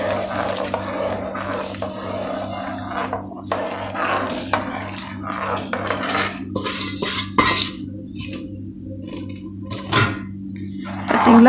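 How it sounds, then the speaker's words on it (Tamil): Semolina (rava) is stirred in a pressure cooker pot while making kesari, with a spoon scraping and clinking against the metal in irregular strokes over a steady low hum, with no talking. "ரவையை கொஞ்சம் கொஞ்சம் போல் கலந்துக்கிட்டே வரணும்"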